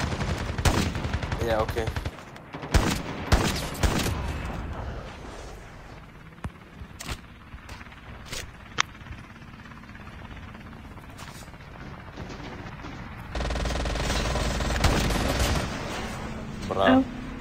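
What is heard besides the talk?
gunfire in a video game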